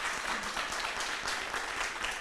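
A town hall crowd at a municipal youth event applauds as a speaker comes up, a dense and fairly quiet wash of many hands clapping, steady for a couple of seconds.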